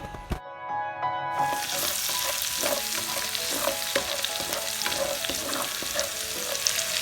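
Crushed garlic and ginger fry in a few spoons of oil, a sharp sizzle bursting in after a brief quiet start and then crackling steadily, with repeated utensil taps and stirring throughout.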